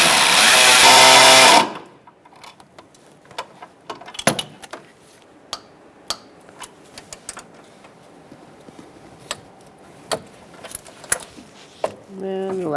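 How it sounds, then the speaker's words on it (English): A wrench ratchets and clicks in short, separate bursts while snugging and torquing an air compressor bolt on a 2007-2017 Ford Expedition, preceded by a loud, brief whir of machinery. "I'm going to snug this down and then torque it to 133 inch-pounds or 11 foot-pounds."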